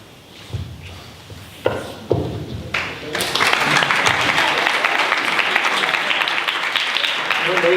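A studio audience breaks into loud, sustained applause that continues to the end, preceded by a few scattered claps and knocks.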